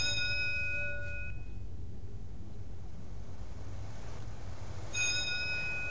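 Doorbell chime inside the video game Fahrenheit, a clear multi-tone ring at the start and again near the end over a low steady background hum.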